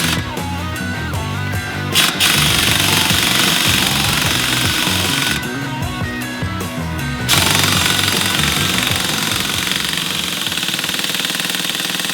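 An impact wrench hammers a wheel bearing press tool during a wheel bearing replacement, a loud continuous rattling burst that runs the whole time with brief shifts in pitch and intensity.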